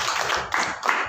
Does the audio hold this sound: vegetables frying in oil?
no